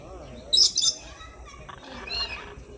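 Large birds give a few sharp, bright calls in quick succession, then softer chirps later, fairly close over a quiet outdoor background.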